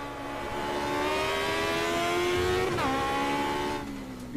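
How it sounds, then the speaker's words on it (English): An Aussie Racing Car in the racing game Automobilista screams through high revs, its engine note climbing steadily, dropping sharply at a gear change and climbing again, loud and alone. "You really hear the engine being used to its maximum."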